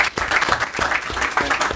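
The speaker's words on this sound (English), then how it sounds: "Applaud this man because he's a great champion" A stadium crowd of tens of thousands applauds a boxing champion after a fight, with steady dense clapping and a rough roar running throughout at a fairly loud, even level.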